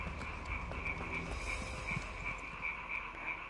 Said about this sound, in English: My, there's frog there.